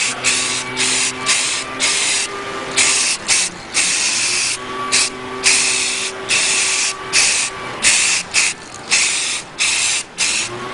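Paint sprays in a light dusting coat onto a Saleen wing body repair part, short bursts of loud close hissing spaced by quick pauses, with a faint steady hum underneath.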